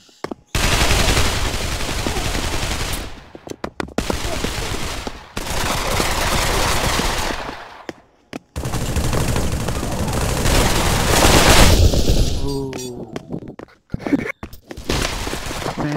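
Gunfire in the VR game Pavlov VR on the 007 Facility map, long loud automatic bursts broken by short pauses, with sharper single shots and clattering near the end.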